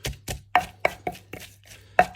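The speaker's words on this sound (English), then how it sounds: "I'm just going to get that garlic crushed up" Garlic crushed for Thai papaya salad, about eight sharp pounding knocks in an uneven rhythm, close and clear with no talking.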